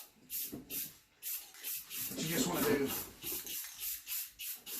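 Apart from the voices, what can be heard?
spray can spraying down a stone mold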